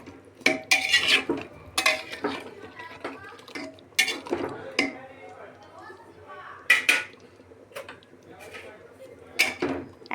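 Spiced eggplant with garam masala is stirred in a pressure cooker pot, bringing repeated loud metallic scrapes and clanks of a spoon against the pot, with a voice talking in between.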